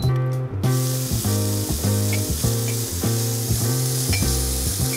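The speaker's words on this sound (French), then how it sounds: "toi tu peux déjà commencer à cuire les petits spekjes" Small bacon pieces (spekjes) sizzle steadily in a frying pan, a constant hiss heard close under rhythmic background music.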